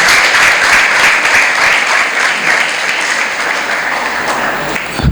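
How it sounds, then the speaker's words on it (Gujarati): Steady, dense applause from a school audience welcoming a guest speaker at a talent talk, a full room clapping continuously at even loudness for several seconds before stopping. "આપણે જોરદાર તાળીઓથી એમનું અભિવાદન કરીએ, સ્વાગત કરીએ"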